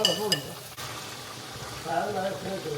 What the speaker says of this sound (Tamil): வெங்காயம் தாளிச்சு கொண்டிருக்கிறேன் சிக்கன் கறிக்கு